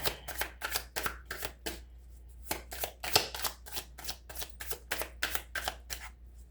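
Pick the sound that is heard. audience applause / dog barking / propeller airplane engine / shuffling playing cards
shuffling playing cards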